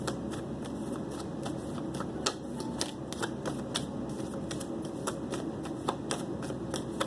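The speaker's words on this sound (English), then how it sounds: "as I'm shuffling these cards" Tarot cards being shuffled close by, a steady run of crisp riffling snaps and soft slides over a quiet background.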